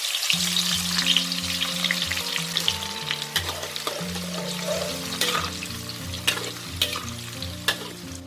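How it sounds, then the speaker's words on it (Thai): Sliced shallots fry in hot oil with a steady close sizzle, while a spoon stirs and scrapes through it in sharp clinks, over a soft instrumental music bed. "แล้วใส่หอมแดงไปเจียวเลยค่ะ"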